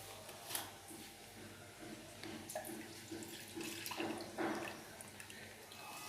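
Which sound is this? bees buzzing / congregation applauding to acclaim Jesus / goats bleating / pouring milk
pouring milk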